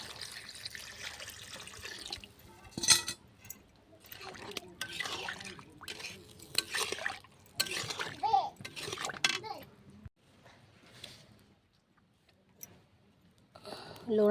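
Water poured into a cooking pot over boiled potatoes for a fish curry in a village home kitchen, a steady splashing flow broken by pauses, with voices, including a child's, talking over it.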